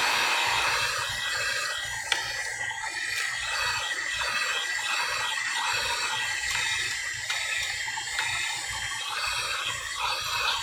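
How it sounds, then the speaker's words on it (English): A heat gun blows continuously at close range while warming the screen of a 9th-generation iPad, a steady loud airy roar with a low motor hum underneath and only slight wavering throughout. "As you can see, I'm heating up the iPad."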